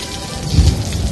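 Rain in an animated cartoon, a dense steady wash of falling rain with a low rumble swelling midway, heard alone with no voices.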